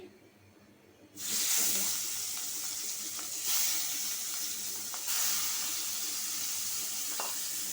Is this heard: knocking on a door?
no